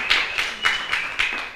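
A small group gives Fernando, a trombone player, a round of applause in a music class: steady, rhythmic handclaps about four per second at moderate volume, with a faint steady tone underneath.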